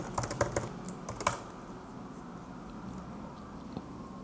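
A computer keyboard clatters with a brief burst of rapid keystrokes at the start, then falls to a faint hum with one stray tap.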